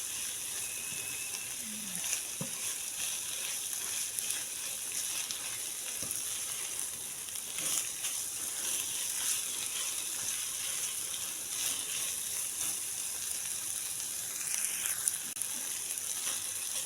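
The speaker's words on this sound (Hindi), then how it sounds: "तकरीबन 2 से 3 मिनट के लिए जो है हम चिकन को फ्राई करेंगे मसाले के साथ" Chicken pieces fry with spices in a hot pan, giving a steady, close sizzle with occasional stirring scrapes and clicks, no talking.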